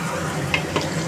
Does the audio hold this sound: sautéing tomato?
yes